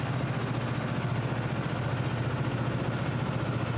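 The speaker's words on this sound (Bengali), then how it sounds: "তো যে আমাদের ট্রলারটা ছুটে যাচ্ছে পদ্মা সেতুর কাছাকাছি" A trawler boat engine drives across the windy Padma river near the Padma Bridge, giving a loud, continuous low throbbing drone with a fast, even pulse and no speech.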